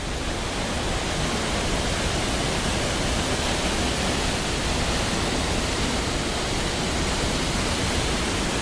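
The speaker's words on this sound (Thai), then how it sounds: "อันนี้ก็คือน้ำตก" Rushing water of the sixth tier of Ta Suea waterfall in southern Laos, a loud, steady, dense roar filling the whole clip without pause or voices.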